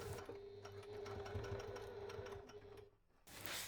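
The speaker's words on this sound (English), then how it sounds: "I'm going to take this over to the sewing machine and get that sewn." A sewing machine stitching a cotton bag, a quick steady run of needle clatter for a few seconds that stops abruptly and then gives way to a short rustle.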